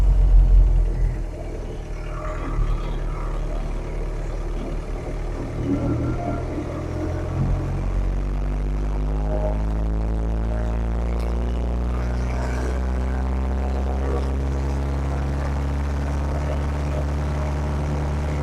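A 1944 Fordson WOT6 truck with a straight-cut gearbox, heard from inside the cab as a loud, steady low engine rumble with a rising gear whine that climbs in pitch as it drives along.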